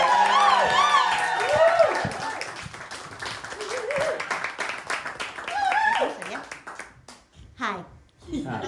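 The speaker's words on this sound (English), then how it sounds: "Give her a big round of applause." Clapping and some cheering from a live comedy show crowd as a comedian takes the stage, scattered and uneven under prominent talking and laughter, thinning toward the end.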